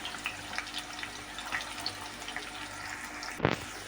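Onions deep fry in heated oil with a little salt, a soft, continuous crackle and sizzle with faint pops, quiet and steady, with a brief clatter near the end.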